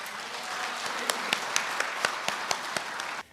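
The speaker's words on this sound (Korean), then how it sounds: "큰 박수로 환영해 주십시오" An audience applauding steadily at a book launch event, a dense wash of clapping with a few sharper claps standing out, ending abruptly near the close.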